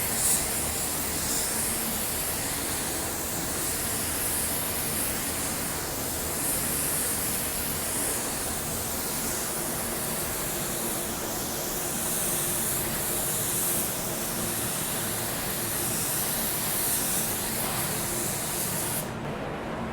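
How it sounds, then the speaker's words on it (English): A 3M Performance spray gun at 20 psi lays down clear coat, giving a steady, close, unbroken hiss of spray that runs for the full length and cuts off abruptly at the very end. "For this, we're going to be using 20 psi on our 3M Performance spray gun."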